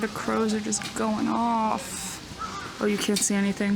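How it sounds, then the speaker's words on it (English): Crows caw loudly and repeatedly near a Japanese shrine at night, harsh calls in several bursts, with a person talking briefly between them. "you can hear the crows are just going off."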